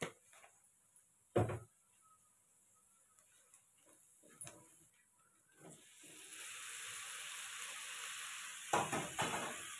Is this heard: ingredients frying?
yes